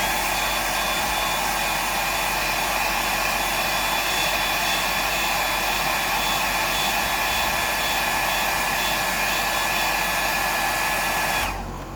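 A hair dryer blows steadily and loudly while drying black paint on a freshwater fishing lure, a constant close whooshing drone with a high whine that cuts off just before the end.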